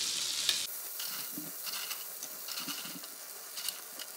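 Bread pieces frying in a large amount of butter for croutons, a steady soft sizzle with intermittent scraping stirs in the pan, close and moderately quiet, no talking.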